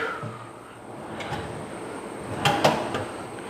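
Cupboard door on Hettich fittings opening or closing, giving a couple of short close clicks and knocks in a quiet room near the end, with no speech.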